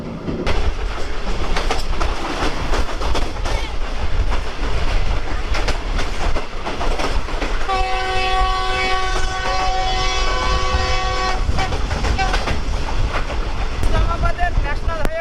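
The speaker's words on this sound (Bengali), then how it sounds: "গ্রিন লাইন এক্সপ্রেস ট্রেনের একশো তিন স্পিডে যাচ্ছে" A Green Line express train in Pakistan rumbles steadily along the rails at about 103 km/h with constant clatter, and a horn sounds for several seconds midway through the loud, continuous noise.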